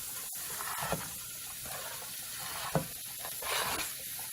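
Mushrooms sautéing in a pot for a gluten-free schnitzel mushroom gravy, a steady low sizzle with a few brief stirring scrapes and clinks, close and moderately quiet.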